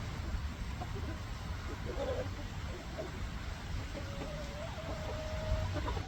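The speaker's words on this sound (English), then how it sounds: "And that's a full-grown chicken right there." Full-grown chickens released outdoors for the first time cluck softly and sporadically over a steady outdoor noise floor, with a few brief calls rising above the hiss.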